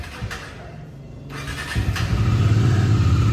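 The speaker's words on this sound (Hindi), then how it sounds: "तो ये है इसकी आइडियल आवाज़।" A Bajaj Dominar 250 motorcycle engine starts and settles into a steady, rumbling idle, close by and fairly loud, with no one speaking.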